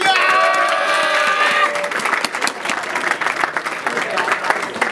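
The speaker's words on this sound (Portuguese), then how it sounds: "Palmas pra essa batalha" The crowd at the Batalha da Aldeia rap battle in Barueri, São Paulo, applauds. A voice rings out first, then dense, fast clapping fills the space, lively and sustained.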